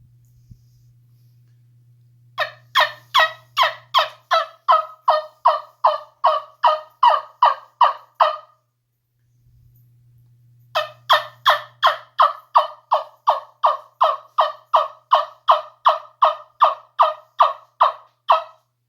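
A wing-bone turkey call, made from wing wood, produces two long runs of sharp, evenly spaced hen yelps, about a dozen notes each, loud and close with a brief pause between the series.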